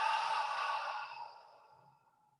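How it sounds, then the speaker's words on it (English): A long, breathy exhale out through the mouth during yoga breathing, close and soft, fading gradually over about two seconds. "Exhale out the mouth."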